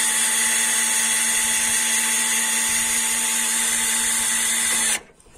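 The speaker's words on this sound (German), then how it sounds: "Markise ausfahren mit dem Akkuschrauber." A cordless drill driving the crank of an awning to extend it gives a steady, loud motor whine with a strong tonal hum, running continuously for about five seconds before cutting off abruptly into near silence.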